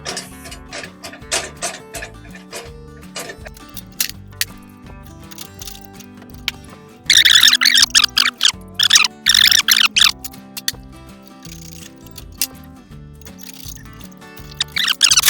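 Cargo straps wound up by a hand strap winding device give a steady run of close clicking and ratcheting ticks, briefly turning into louder, sharper rattling bursts partway through.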